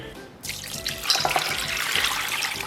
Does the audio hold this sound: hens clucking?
no